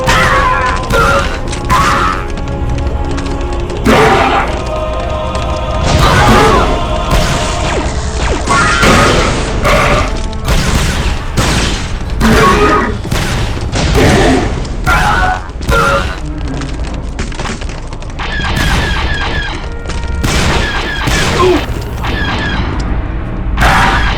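Blaster gunfire in Star Wars: Republic Commando rings out as repeated sharp, loud shots in an irregular rhythm over a dense rumbling battle backdrop, continuing throughout.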